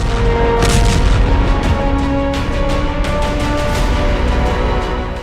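A loud, continuous roar of blasts and rumbling with repeated sharp cracks as a missile strike sets ammunition ablaze at a weapons depot, heavy explosions and fire.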